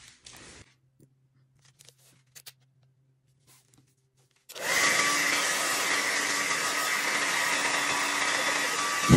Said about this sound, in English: okay, so now it says to take a blow dryer